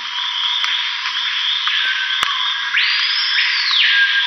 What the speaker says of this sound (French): le petit truc répété comme ça, c'est probablement une grenouille